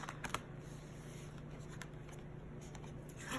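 A deck of tarot cards is shuffled softly and close by, with quiet riffling and sliding card sounds continuing steadily and a few crisp snaps near the beginning.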